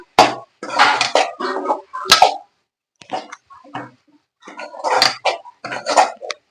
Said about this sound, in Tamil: இப்போ தேங்காய் இருக்கிறது எல்லாத்தையும் போட்டுடலாம் போட்டு நல்லா மிக்ஸ் பண்ணிக்கலாம்